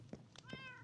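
A cat meows in a video game: a short, faint meow rising into a clear tonal cry within a second, over quiet background.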